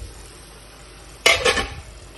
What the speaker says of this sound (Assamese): মছলাখিনি ভালদৰে ভুনা হৈ গ'ল